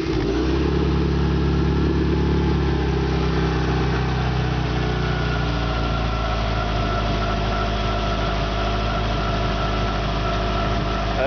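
A Subaru EJ22 engine fitted in a Volkswagen Vanagon runs loudly and close at a steady idle, its pitch easing down slightly from a higher start into an even, continuous drone.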